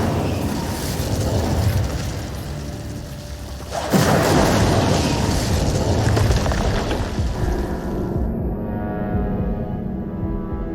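An Incendio fire spell is cast in Hogwarts Legacy, a sudden loud whooshing burst of flame that roars on for several seconds and then fades out.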